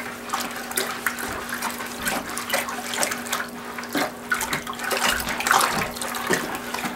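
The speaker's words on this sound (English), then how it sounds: "I'm just going to stir the salt in for a little bit here." Salt being stirred by hand into 5 gallons of water in a can to make a deer-hide pickling bath: a steady swishing, sloshing swirl of water that runs continuously and fairly close, with no talking.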